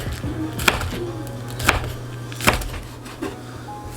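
Knife chopping green onions on a board for a dumpling sauce, with a handful of sharp, separate chops spaced about a second apart over a steady low kitchen hum.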